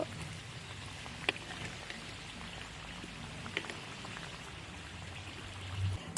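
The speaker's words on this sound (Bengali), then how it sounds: "সিঙ্গারাগুলো একটু ডুবা তেলে ভাজতে হবে" Cauliflower samosas deep-fry in plenty of oil, giving a steady, quiet crackling hiss like light rain, with a few sharper pops scattered through it.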